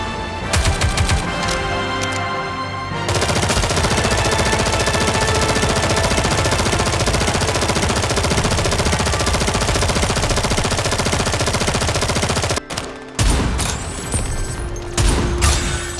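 Sustained, loud, rapid gunfire in the mobile shooter Nikke: Goddess of Victory, a dense nonstop rattle of automatic shots lasting many seconds, briefly broken near the end before more bursts resume.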